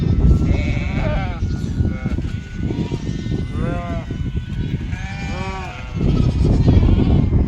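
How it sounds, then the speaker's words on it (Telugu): Several wavering bleats from white-breed sheep at a market rise and fall over about seven seconds, close by, against a steady rumbling background with some voices mixed in. "మామూలుగా తెల్ల జాతికి చెందిన గొర్రెలు"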